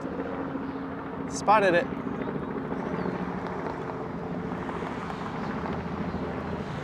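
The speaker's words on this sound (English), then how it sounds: "Where's that helicopter? Oh, there it is." A helicopter drones steadily overhead in Toronto, a continuous low rumbling engine and rotor noise under the open-air city background, while someone speaks briefly partway through.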